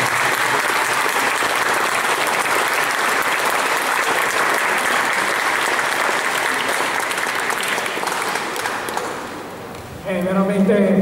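Audience at an international youth band music festival claps long and loudly in a dense, steady burst of applause that fades near the end, followed by a brief ringing tone.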